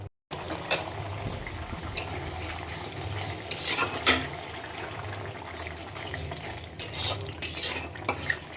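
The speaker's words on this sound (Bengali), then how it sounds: "বন্ধুরা, মশলাটা খুব সুন্দর করে মিক্সড করে নেবেন" Spices are stirred and mixed in a pan, with close, repeated scraping of a spoon against the metal over a low sizzle, the strokes coming in an irregular rhythm.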